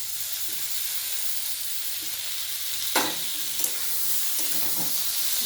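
Chopped tomatoes sizzle in a pan of potatoes fried until red. A steady frying hiss runs throughout, broken by a few sharp scraping stirs near the middle and again later.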